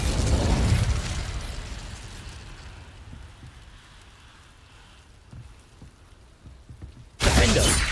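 An Incendio fire spell cast in Hogwarts Legacy: a loud, broad whooshing burst that fades into a low crackle with scattered pops, then a second sharp, loud burst near the end.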